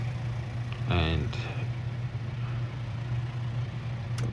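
A 2021 Mahindra Roxor engine idles steadily with a low constant hum during a wheel alignment job, while someone talks briefly over it.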